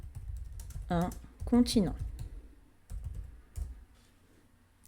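Keystrokes on a computer keyboard while entering text into an Excel spreadsheet, a quick run of close, light clicks that sits under and between someone speaking French.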